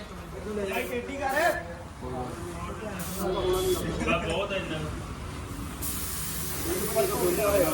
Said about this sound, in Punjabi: ਹਜੇ ਭਾਈ ਇਹਦੇ ਪ੍ਰਾਈਮਰ ਫੇਰਨ ਲੱਗੇ ਹੋਏ ਆ